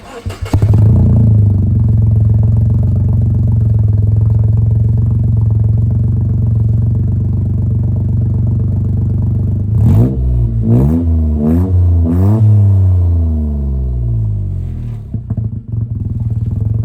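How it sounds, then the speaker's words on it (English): A Toyota GR Yaris engine with no exhaust fitted idles roughly, then revs sharply several times in quick bursts before settling back, with harsh unmuffled clatter. "try it with no exhaust at all and see what it sounds like"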